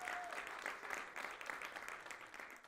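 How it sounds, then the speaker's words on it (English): Participants at a public speaking session applaud together, a faint, steady patter of clapping from a small group, with a brief tone at the start. "Please give yourselves a round of applause for doing this."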